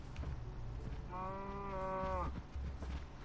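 Cow in Minecraft giving a single drawn-out moo of about a second, clear and fairly near over faint game background noise, with no talk.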